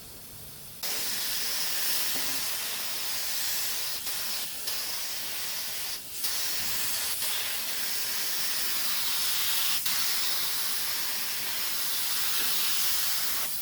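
Spray gun applying paint at low pressure on a car body, a steady close hiss running almost continuously after a short start, with a few brief breaks and pulses.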